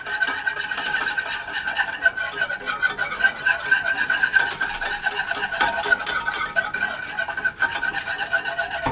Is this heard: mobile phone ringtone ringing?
no